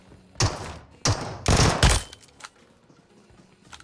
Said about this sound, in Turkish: 50 mermi de üstüme atıyor.